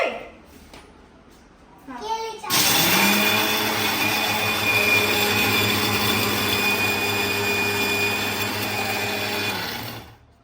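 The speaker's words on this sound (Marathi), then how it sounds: "आता मी याला बारीक करून घेते मिक्सरला" A kitchen mixer grinder whirs into action to pulverise broken biscuit pieces, its loud, steady motor roar running for several seconds after a brief quieter lead-in, then cutting off near the end.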